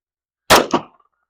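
A single sharp 9mm gunshot from a Glock 19X striking a metal manhole cover outdoors, a loud crack with a quick ringing metallic clang that decays within half a second.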